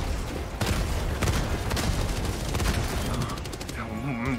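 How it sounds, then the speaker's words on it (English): Rapid autocannon bursts in Helldivers, dense and continuous for several seconds amid other battlefield gunfire and booms, loud and close, with a voice under it near the end. "What a waste of autocannon."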